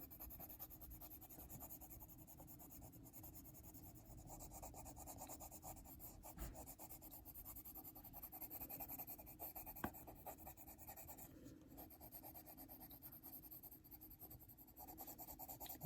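Colored pencil strokes scratch and rub across paper in a soft, steady, close texture, continuous and faint with small irregular bursts and no talking.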